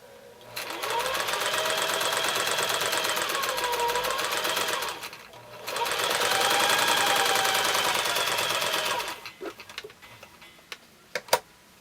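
Close, loud whirring of a sewing machine stitching rows of an hourglass quilt block together, running in two long steady bursts with a short pause, then stopping with a few clicks and handling knocks.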